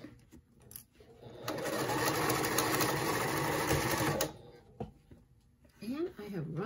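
A sewing machine stitches a lined zippered pouch in one steady, rapid mechanical run of about three seconds, close and clear, with quiet speech before and after the run.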